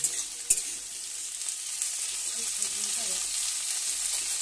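Yardlong beans and bori fry in oil in a kadai, a continuous close hissing sizzle with a couple of brief knocks near the start and no voices.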